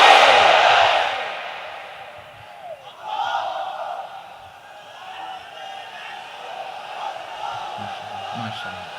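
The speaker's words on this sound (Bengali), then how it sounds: "তাকবীর পড়ুন, লিল্লাহে তাকবীর।" A large crowd at an outdoor Islamic sermon gathering in Bangladesh chants takbir in unison, a loud swell of massed voices at the start, then fainter responses fading under the murmur of the gathering.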